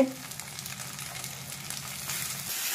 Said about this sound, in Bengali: এবার ভালো করে মা কষাবে।